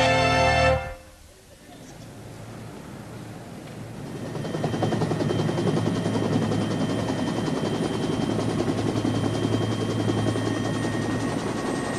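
A helicopter's rotor and engine drone steadily and loudly after an abrupt cut from another sound, the low thrumming building over the first few seconds and then holding constant.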